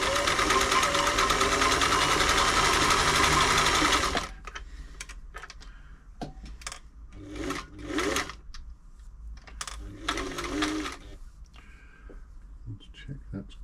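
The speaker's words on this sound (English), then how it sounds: "The thread's going across the top of the bobbin, that's metal as well, so that makes a little tapping noise" A Singer 348 sewing machine runs steadily and loudly for about four seconds with a fine metallic tapping from the bobbin thread, then stops, followed by someone talking amid small clicks and handling noises.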